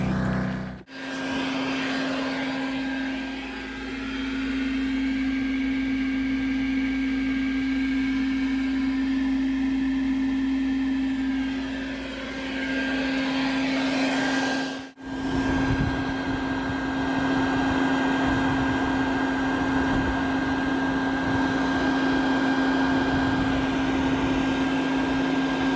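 A vacuum drones steadily while pulling bees out of a chimney during a removal, its loud constant whine dipping briefly twice as the hose shifts or clogs.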